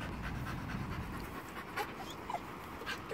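A dog pants rapidly and steadily close by, with a couple of faint whimpers slipping in, restless while waiting for a soccer ball during play.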